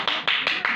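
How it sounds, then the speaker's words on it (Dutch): Quick hand claps, about four sharp strikes in an even rhythm, close and fairly loud, celebrating someone named Hens Knol after a jump. "Een applausje voor Hens Knol, hoor."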